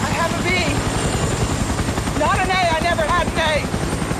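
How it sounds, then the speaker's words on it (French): A helicopter's steady rotor chop runs throughout, with wavering tonal voices or cries on top. "partant au loin dans un hélicoptère"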